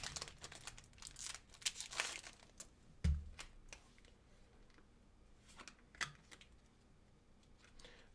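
A Topps baseball card pack wrapper from a 2014 Series 1 jumbo box is torn and crinkled open by hand, with bursts of crackling foil and one sharp rip, then quieter intermittent rustles, close up and with no talking.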